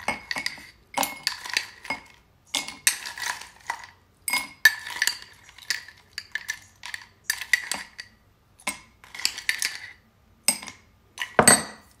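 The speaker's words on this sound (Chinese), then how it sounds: "首先呢在杯子里我们要放一些冰块" Ice cubes dropped one after another into a cocktail glass for a Black Russian, making sharp close clinks and rattles in irregular bursts separated by brief quiet gaps, with no voices.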